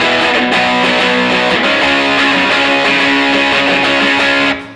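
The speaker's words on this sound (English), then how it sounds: "we have a power chord progression where one of the chords is played as the inverted root to get that darker sound" Distorted electric guitar plays a punk power chord progression in the Orange County style, one chord voiced as an inverted root for a darker tone, in standard tuning; loud, dense, sustained strums with no talking.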